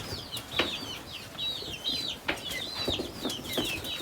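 Seven-week-old chickens on a poultry farm in Ghana, a flock giving repeated calls and clucks with occasional wing flaps, steady and fairly close with no talking.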